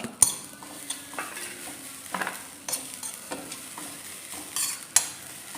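Grated coconut tossed and stirred in a hot pan for Kerala Vishu ada, with repeated scraping clicks of a spoon against the pan over a faint background sizzle.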